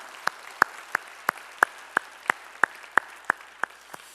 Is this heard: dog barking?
no